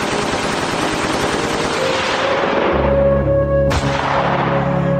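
Gunshot sound effect in a large stage drama, heard as a loud, continuous burst of rapid machine-gun fire. It gives way to a sustained low rumbling tone, then a sharp crack near the end.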